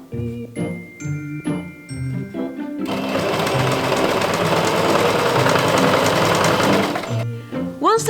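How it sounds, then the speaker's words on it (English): Sewing machine stitching the front and back trouser legs of a cosplay costume together, a steady loud whir running several seconds after a voice talks, then stopping as talking resumes. "You simply have to sew the front legs to the back legs."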